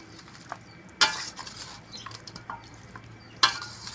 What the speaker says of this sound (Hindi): ये लेमन डालने के बाद इसको थोड़ा सा मिक्स कर लेंगे